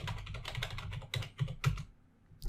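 Short burst of typing on a computer keyboard entering a command on a Kali Linux machine, quick soft clicks close by, pausing briefly before a final keystroke.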